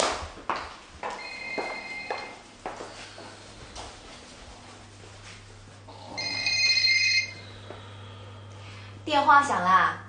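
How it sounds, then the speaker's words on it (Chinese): A telephone rings in a TV drama scene, with two short bursts of electronic ringing standing out over a quiet room tone. "电话响了。"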